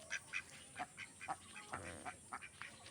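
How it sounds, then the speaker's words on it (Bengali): Domestic ducks kept in a backyard pen, a pair among a household flock, give repeated nasal quacks and honks in an irregular series, fairly close and with no talking over them. "এখানে দুটো আমার আর বাড়ির সবার আছে হাঁস"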